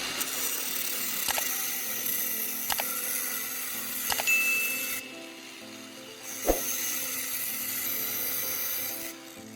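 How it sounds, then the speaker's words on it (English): A second empty tuna can is cut apart to make a metal ring, giving a steady, thin scraping and whining over a few seconds, broken by several sharp clicks spaced a second or two apart. "I cut the second can of tuna in the same way as before."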